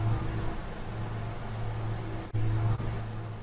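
Background noise fed through an EOS reverb set to infinite mode, building a low bass layer for a League of Legends Ryze sound. It is a sustained, unchanging dark hiss-like wash with a couple of brief cuts and no decay.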